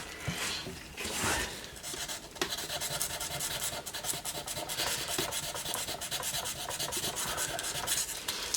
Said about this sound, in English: I'll sand the black undercoat